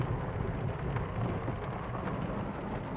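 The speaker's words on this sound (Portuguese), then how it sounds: "Está chovendo. Está chovendo aqui, ó. Chuva." Steady rain falls in a dense, low rushing hiss, constant and enveloping with no voices.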